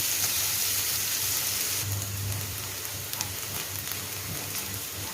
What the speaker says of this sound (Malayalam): നല്ല ബ്രൗൺ കളറാവുന്ന വരെ നമുക്കിത് നന്നായി വഴറ്റിയെടുക്കാം.